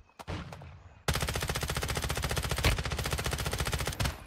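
Rapid automatic gunfire in Warzone Mobile, a loud, sustained stream of evenly spaced shots that begins after a few isolated bangs and runs for about three seconds before stopping.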